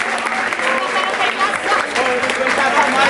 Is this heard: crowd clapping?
yes